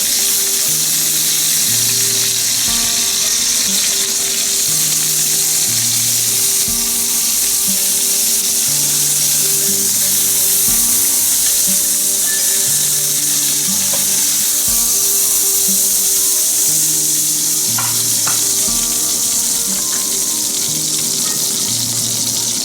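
Pork chops frying in oil in a pan give a steady, loud sizzle and crackle that runs without a break, with faint clatters and small pops scattered through and no voices.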